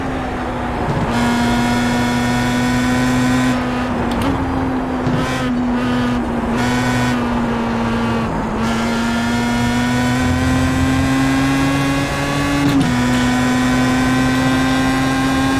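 A race car engine at Silverstone in the iRacing sim, a loud steady high-revving drone held close and continuous, with brief dips and shifts in pitch at gear changes and braking, alone without talk.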